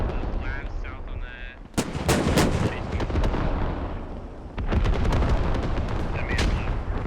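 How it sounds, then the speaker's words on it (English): Artillery shells strike a village in the military shooter game Squad, with sharp, loud impact bursts in two clusters, separated by a rumbling lull, plus scattered distant booms. "We do have a row of artillery hitting Novo, but there's not a lot there right now."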